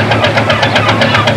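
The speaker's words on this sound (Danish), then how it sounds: "Den gode, gamle, pålidelige motor, som så trofast har tøffet rundt på havet i menneskealder." An old two-stroke engine of a fishing cutter chugs loud and close, a fast, even thudding beat with metallic knocking that carries on without pause.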